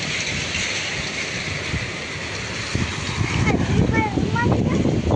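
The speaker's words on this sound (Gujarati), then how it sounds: "તો કેવો વરસાદ, કેવું અંધાર્યું છે" Steady rain hisses and patters throughout, growing louder partway through, with a voice speaking over it.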